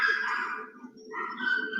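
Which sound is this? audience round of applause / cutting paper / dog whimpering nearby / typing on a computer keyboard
dog whimpering nearby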